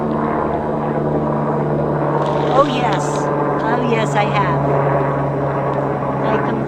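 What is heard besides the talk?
helicopters flying overhead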